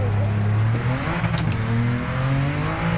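A 2017 Ford GT in Gran Turismo 7 revs hard and loud, its engine note climbing steadily, dropping briefly as if through a gear change, then rising again at a fast pace.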